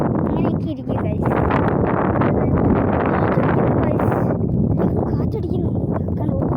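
Strong wind buffets the microphone in a park, a loud continuous roar with rustling and no pauses.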